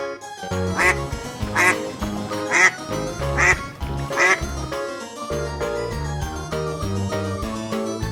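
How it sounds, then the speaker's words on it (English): A duck quacks in a rapid series of five loud, nasal calls, each close and distinct, over a steady bed of bright music that carries on after the quacks stop. "Duck."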